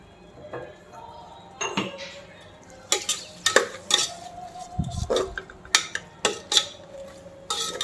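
Spoon stirring mutton biryani marinade in a bowl, with repeated close clinks and scrapes of metal against the bowl and wet mixing squelches in irregular bursts.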